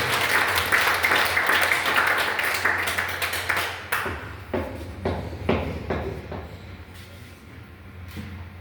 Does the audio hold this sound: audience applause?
yes